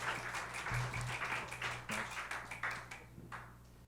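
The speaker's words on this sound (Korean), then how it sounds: "다시 한번 축복의 박수 하겠습니다" A congregation applauding during a Korean young adults' church worship service, scattered clapping that is fairly quiet and distant, thinning out toward the end, with a low hum underneath.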